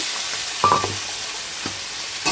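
Chopped vegetables for a fish curry, papaya, potato and stems, sizzle steadily in hot oil, close and even, broken by a few scraping stirs of a spatula against the pan.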